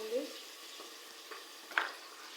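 Steady, soft sizzle of marinated chicken frying in a pan, with a few light stirring clinks over a continuous hiss and a brief murmur of voice at the start.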